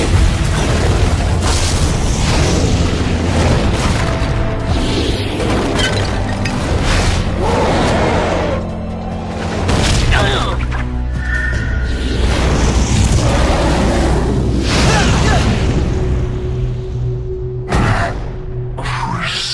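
Cartoon slug combo shot from Slugterra exploding: deep booms and bursts layered with whooshes and crackling debris, loud and dense over much of the stretch, with a final burst near the end.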